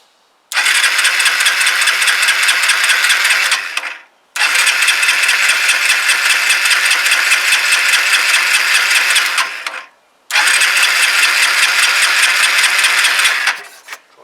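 Three long, loud cranking bursts from the starter of a Kawasaki BN125 Eliminator motorcycle run off a jump pack, each lasting several seconds and separated by short silent pauses, recorded up close.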